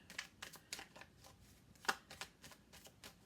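Tarot cards shuffled by hand, a quick series of soft riffling and slapping card sounds in an irregular rhythm, close but quiet, one snap slightly louder than the rest, with no voices.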